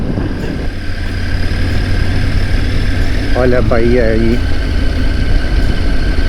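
A modern motorcycle engine hums steadily and close while riding in Ushuaia, with a rushing wind-like roar, as a voice speaks briefly over it midway.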